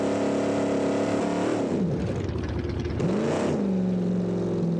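A custom Mad Max–style car's engine in the BeamNG driving game drones steadily under load in fourth gear, dips in pitch briefly, then climbs and holds again, close and continuous with no talk.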